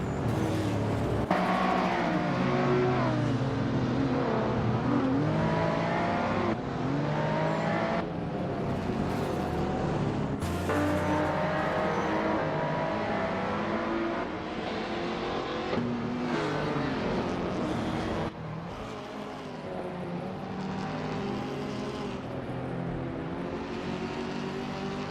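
Race cars in a racing video game roar and rev continuously with engine pitch rising and falling as they overtake, a dense, loud stream of motor noise with abrupt shifts and cuts throughout.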